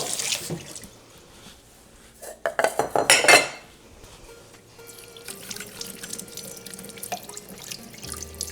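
A bowl gets rinsed in a kitchen sink: running tap water and dripping, with a burst of clattering dishes and cutlery in the middle, close and moderately loud, no talk.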